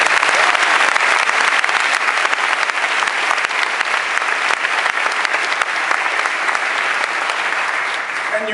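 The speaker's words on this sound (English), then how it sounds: "Let's give him a round of applause." A university audience claps loudly and continuously in a dense, even round of applause that holds steady throughout and tapers only slightly at the close.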